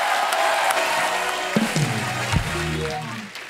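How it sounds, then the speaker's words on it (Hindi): Studio audience on a Hindi comedy talk show applauds and cheers, a dense, steady wash of clapping with some whoops carrying through the whole stretch before fading slightly at the end. "जोरदार तालियां हो जाए"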